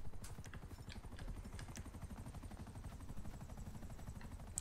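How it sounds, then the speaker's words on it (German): Helicopter rotor chatter in GTA V Online, a steady rapid low thumping with scattered sharp gunshot cracks over it, all at a moderate, even level. "Ich schieße einfach seinen Heli ab, bis der kaputt geht."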